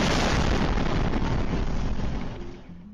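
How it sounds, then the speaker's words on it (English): A powerful explosion captured by a car dashcam gives a loud, broad roaring blast that fills the whole clip, then slowly decays into a fading rumble. "a dashcam recording posted to social media shows the powerful explosion"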